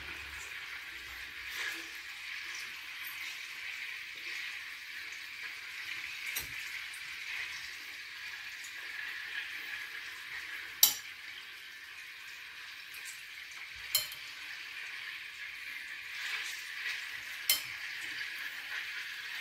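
Köfte meatballs hit a hot pan and keep up a faint, steady sizzle, punctuated by several sharp clicks and clatters of utensils against the pan.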